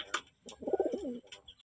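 Pigeons cooing nearby, a short soft throaty coo rolling in low warbling tones, with a few faint clicks and rustles around it.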